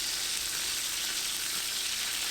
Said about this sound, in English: you want it hot enough where the chicken sizzles and you see steam coming off